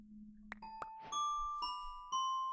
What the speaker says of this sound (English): And there's the doorbell again.